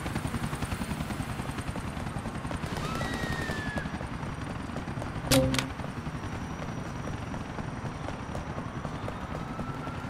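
A helicopter in GTA IV hovers with a continuous rotor chop, moderately loud and steady, with a brief sharp burst of gunfire-like noise partway through.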